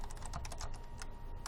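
Quick bursts of typing on a computer keyboard while entering code, a rapid run of light clicky keystrokes heard up close in a quiet room.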